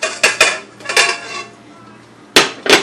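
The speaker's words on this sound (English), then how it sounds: "We're gonna put the 2 sticks of butter in." Two sticks of butter go into a stand mixer bowl while baking triple chocolate cookies, with a handful of close, bright clanks and clatters of the metal bowl and utensils, separated by short pauses.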